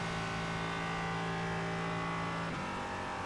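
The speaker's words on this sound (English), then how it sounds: "It's the upshift to sixth." Race car engine in the iRacing video game holding a steady high drone in fifth, then a quick dip in pitch at the upshift to sixth before the note settles again.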